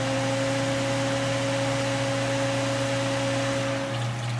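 Ice machine condenser fan running, a steady broadband whoosh over a constant low electrical hum, close and unbroken throughout.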